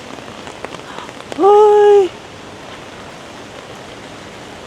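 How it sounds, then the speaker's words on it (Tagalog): Heavy rain falls on a Tokyo street in a storm, a steady close hiss that runs the whole way through, briefly topped by one short exclaimed voice. "lumalala na yung ulan, guys"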